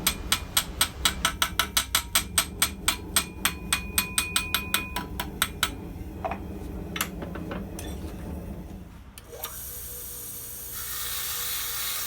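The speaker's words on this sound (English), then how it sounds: "I just want to peen that tenon one more time to make sure it's nice and tight." A hammer peens a tenon on a pair of blacksmith tongs: about fifteen sharp, ringing metal strikes in a steady rhythm, then a few scattered taps, followed by a duller shuffling noise.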